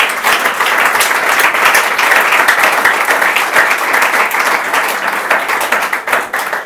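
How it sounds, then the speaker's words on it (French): A church congregation claps and cheers in praise, producing dense, loud applause that holds steady throughout and tapers slightly at the end. "Acclamons le Seigneur Jésus pour cela."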